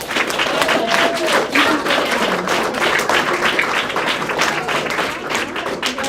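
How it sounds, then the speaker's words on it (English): Steady, dense applause from an audience honoring student performers at a spring piano recital, filling the whole stretch at an even level with scattered sharp claps standing out. "So let's clap for these guys"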